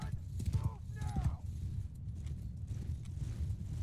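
Hooves clatter in a rapid clip-clop as horse archers ride in the strategy game Khanqueror: War for the Steppe, a busy battle bed under steady game audio.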